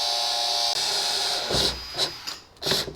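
A power drill bores through a jet ski hull while the fuel system is being plumbed: a steady whining drone, then several short bursts of drilling and grinding as the bit cuts the material.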